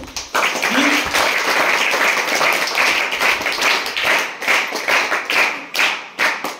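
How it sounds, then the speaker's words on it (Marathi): An audience bursts into loud applause for the parents, and dense clapping fills the room for several seconds with brief dips in the rhythm. "मी सर्व पालकांसाठी एकदा जोराने टाळ्या वाजवू इच्छितो."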